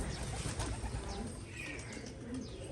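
Soft, low pigeon cooing repeats in a loft through a dense background of rustling and murmuring, with a few faint chirps higher up.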